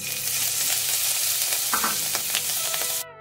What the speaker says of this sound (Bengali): এরপর আমরা এর মধ্যে দিয়ে দেব গ্রেট করে রাখা 1 টুকরো আদা